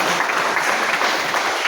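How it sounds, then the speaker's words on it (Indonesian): A seminar audience applauds, a dense and steady patter of many hands clapping together at moderate loudness with no voices above it. "boleh kasih tepuk tangan"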